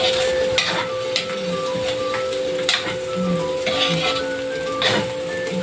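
Sweet potato (kamote) cooks in a pan for lumpiang hubad, giving a steady close sizzle with occasional scraping stirs and no talking.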